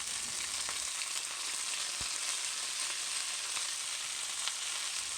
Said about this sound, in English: we're just cooking with some olive oil, and we're basically going to saute it right on a skillet